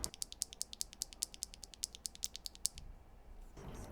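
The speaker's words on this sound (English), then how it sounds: "one thing I've noticed with the Switch is that it is incredibly clacky" Clacky keyboard switches on a Keygeek M3 fiberglass-themed board, typed in a quick, even run of sharp clicks for under three seconds before the keys stop and only quiet room noise remains.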